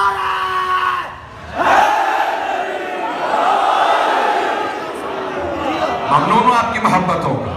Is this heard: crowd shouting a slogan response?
yes